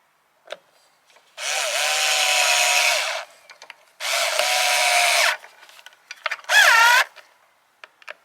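A power tool drives the mounting fasteners on a Cannon downrigger in three loud whirring bursts, the last shorter and rising in pitch, each followed by small clicks and handling noises.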